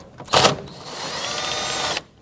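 A cordless power tool whirs steadily for about two seconds while backing out one of three 10mm bolts on the air filter box of a 2011-2015 Kia Sorento, preceded by a brief clatter, close and fairly loud.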